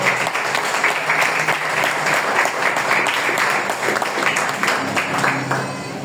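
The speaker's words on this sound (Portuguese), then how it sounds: "Você pode aplaudir a palavra do Senhor?" A church congregation breaks into sustained applause, a thick, steady roar of many clapping hands that fills the room and carries on for several seconds, with no speech over it.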